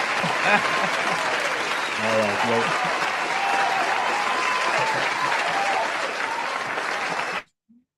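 Canned applause from an online meeting's reaction button plays as a steady burst of clapping and cheering, with people talking over it before it cuts off abruptly.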